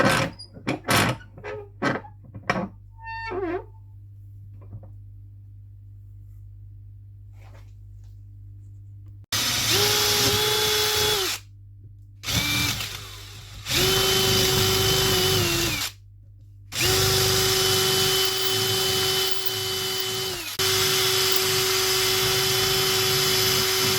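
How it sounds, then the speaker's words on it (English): After a few quiet clicks and taps, a power drill whirs in several loud bursts into a centre pin reel ratchet plate, stopping briefly between runs, its pitch shifting slightly as it bites. "The next step is going to be to drill that"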